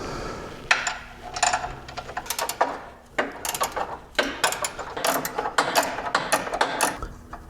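Ratchet wrench clicking on a bolt while installing a Maximus 3 tow loop on a Jeep JK Rubicon, heard as repeated bursts of rapid close ratchet clicks with short pauses between strokes.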